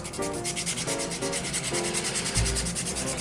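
A rag cut from an old t-shirt is rubbed over a surface to work in a finish, giving soft, close, rhythmic swishing strokes with a few brief pauses and no talking.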